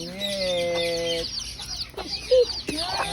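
A pet bird, apparently a chicken, clucks and calls loudly and close by while someone holds it, followed by a few softer clucks and light handling noises.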